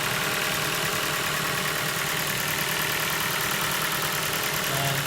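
A Ford Focus Mk2 engine idling with a faulty engine mount, a steady close-up mechanical drone with a constant buzzing vibration, unchanging throughout and with no talking.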